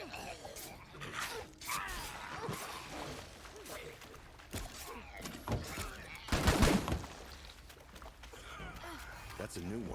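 Gunfire in the zombie survival game State of Decay 2 comes as scattered bursts of shots amid gasps and grunts, with a loud cluster near the middle and talk in between.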